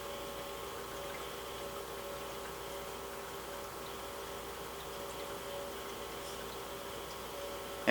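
Gasoline trickling out of fuel injectors on an injector flow bench, a steady faint liquid drain with a continuous pump-like hum and tonal machine whine running evenly throughout, no voices.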